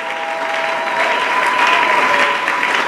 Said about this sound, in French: On acclame Jésus très fort